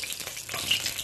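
Olive oil crackles and sizzles softly in a pan over the fire, a faint steady hiss with small pops and no voices.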